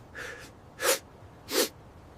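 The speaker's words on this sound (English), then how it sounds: "Achoo!" Three short, sharp bursts of breath follow each other closely: a small intake, then two forceful sneezes, close and fairly loud.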